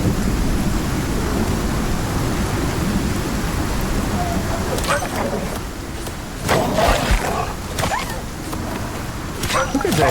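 Thunderstorm in the survival game Icarus, steady heavy rain with rolling thunder rumbles and a few louder crashes in the second half, with a person talking over it.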